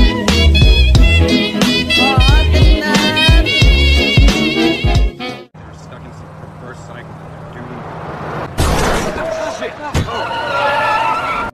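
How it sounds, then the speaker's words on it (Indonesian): A car skids after one of its tyres blows out, a loud screeching burst with harsh tonal squeals that cuts off abruptly, then a quieter stretch of rumbling noise and a final sharp, loud return of noise. "Tiba-tiba mobil itu ngagibek karena salah satu ban mobilnya betus."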